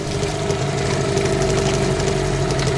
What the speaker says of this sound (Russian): Мотор неделю не заводили.